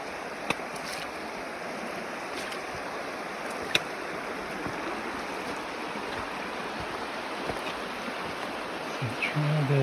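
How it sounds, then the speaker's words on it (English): A mountain stream flows at a river crossing along the Continental Divide Trail, a steady broad rush of water heard from nearby, with a few faint clicks and a low bump near the end. "Okay, river crossing number 2."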